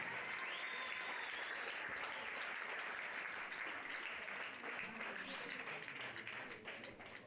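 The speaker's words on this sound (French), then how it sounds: "Ils sont 5e, on les applaudit." At an outdoor prize ceremony, a crowd applauds a fifth-placed pony show-jumping team, a steady, fairly distant wash of clapping that continues throughout, with faint voices in the background.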